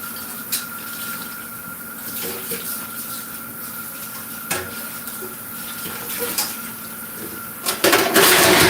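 Hot water runs steadily from a tap into a sink, a constant hiss and rush with scattered clinks and knocks, close by, swelling louder near the end.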